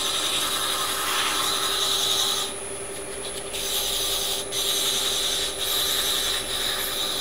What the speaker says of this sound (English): I'm going to go ahead and sand that, and then I'll work on the shaft part of it. Alright, I'm just finishing up with 600.